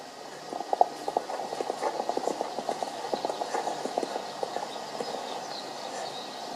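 A horse walks across a riding arena, its hooves striking the footing in a steady, even clip-clop rhythm that is moderately close and clear.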